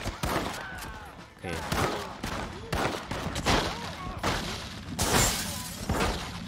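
Enemy gunfire in Red Dead Redemption around a house: repeated loud shots and volleys with some shattering impacts, while someone speaks briefly between them.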